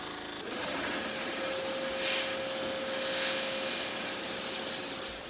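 A milling machine cutting into wood sets up a steady, loud whirring drone with a constant motor tone and a rough, hissing chip-cutting texture that runs unbroken for several seconds.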